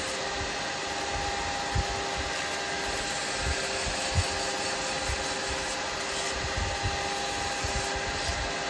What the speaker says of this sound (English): Just sand that little hole.